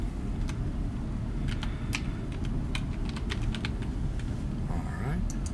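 Patient details being typed on a computer keyboard: a run of quick, irregular key clicks close by over a steady background hum.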